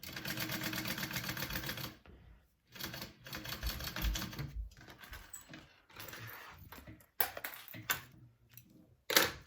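Sewing machine stitching a crossbody bag, its rapid mechanical needle chatter running in steady bursts that stop and restart several times, fairly close and alone without talk.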